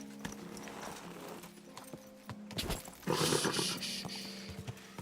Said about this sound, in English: This horse must have cost them pretty.